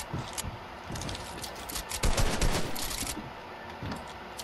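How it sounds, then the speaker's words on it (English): Rocket fire in a video game: a burst of loud rapid blasts and impacts with a dense crackling mix over several seconds, close and with no talking. "I'm gonna shoot a rocket."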